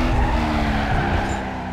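Ford Mustang GT drifting in the racing game Need for Speed Carbon, with a steady loud tire squeal over the engine drone throughout.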